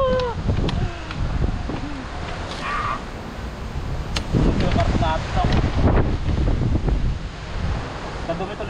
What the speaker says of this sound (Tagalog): Grabe, ang lakas ng hangin, no?